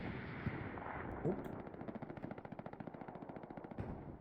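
Bursts of machine gun fire from the Hell Let Loose video game start as scattered shots, then become a sustained rapid rattle of evenly spaced rounds, fairly faint against a low background rumble.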